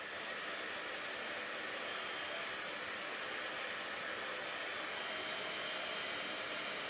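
A heat tool or dryer blows steadily to dry alcohol ink on cards, a continuous loud broadband whoosh with a high hiss that holds unchanged throughout, with no talking.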